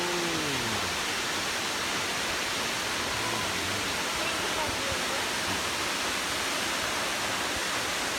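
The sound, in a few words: waterfall water flowing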